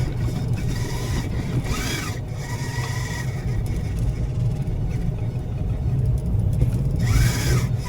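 An autonomous car driving on the road without a safety driver gives a steady low engine and road rumble with a few brief rushing passes, moderately loud and continuous with no talk.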